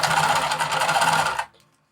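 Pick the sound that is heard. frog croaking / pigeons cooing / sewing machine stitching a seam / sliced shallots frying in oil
sewing machine stitching a seam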